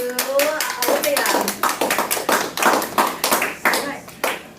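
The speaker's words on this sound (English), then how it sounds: "Let's give an applause to Olivia" Applause at a Gavel Club meeting, a small group clapping in distinct, fairly close bursts that stay steady for a few seconds before slowing and thinning out.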